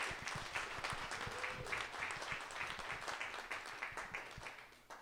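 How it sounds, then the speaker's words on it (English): An audience at a local history talk in Pitkin gives a round of applause for a couple who restored an old building, the clapping fairly quiet and slightly distant, steady throughout with faint individual claps standing out. "Let's give them a nice round of applause"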